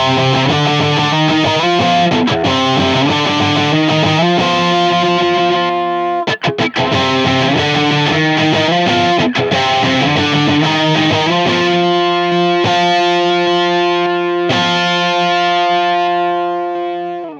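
Fender Ultra II Stratocaster electric guitar played through heavy distortion on the humbucker, loud sustained chords and riffs ringing continuously with brief cut-offs, no talking.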